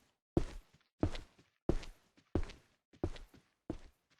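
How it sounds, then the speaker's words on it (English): Continuous walking footsteps in the video game Evil Nun land as six heavy, evenly spaced thuds, loud and close, each one followed by a brief scuff. "That walking continuously is loud in my ears."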